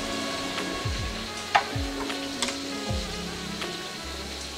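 General Tso's chicken pieces deep fry in hot oil in a carbon steel wok, a soft, steady sizzle with a few stirring scrapes and light knocks, close up and fairly quiet, with no talk.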